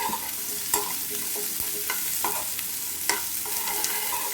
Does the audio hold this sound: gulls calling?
no